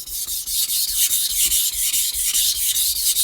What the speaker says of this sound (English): when I'm sharpening my own knives, I might go